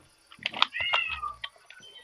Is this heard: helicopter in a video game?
no